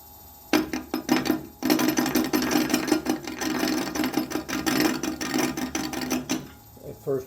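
Walnut block being rounded into a wand blank on a spinning lathe, a steady rasping, scraping texture that starts abruptly, runs continuously with a brief pause near the start, and fades out at the end.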